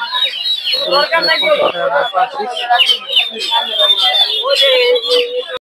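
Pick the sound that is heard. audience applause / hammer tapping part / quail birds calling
quail birds calling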